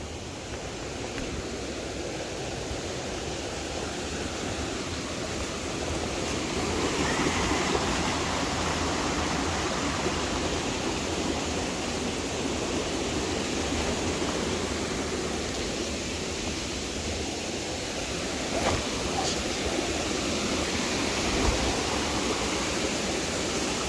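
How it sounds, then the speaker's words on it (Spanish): Water tumbles down a mountain stream in the sierra, a steady broadband rush heard up close and continuous, with slight swells in volume and no talking. "¿Cómo cae agua, Dagale?"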